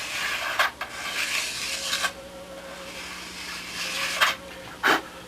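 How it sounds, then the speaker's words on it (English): A small sanding block rubs along a mold edge to smooth off dried CA glue, giving soft close rasping strokes in short bursts and pauses. "I just want to dress off this edge where the CA was on here with a little sanding block"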